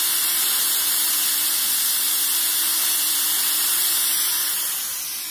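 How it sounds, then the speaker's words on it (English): Steady, forceful hiss of a Black and Decker FSM1605 steam mop's steam jet, loud and continuous throughout, easing slightly at the very end, with no voices. "But the steam is quite forceful."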